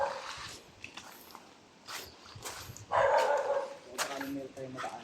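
A dog barks angrily outdoors in short, sharp bursts spread across the stretch, with a louder cluster near the middle. A person talks in between and over the barks.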